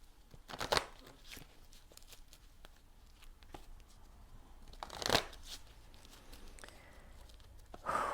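A numerology card deck is shuffled in a quiet room: soft papery riffles with three distinct louder bursts near the start, middle and end, and faint card handling between them.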